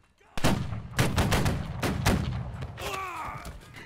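Gunshots in a shooting video game: about six loud, sharp reports spaced roughly half a second apart, each with a short echoing tail, and then a whistling, warbling tone near the end.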